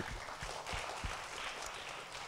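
A congregation at a church service applauds, a soft, even wash of many hands clapping at a distance, fairly faint and continuous throughout.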